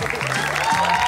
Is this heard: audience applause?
yes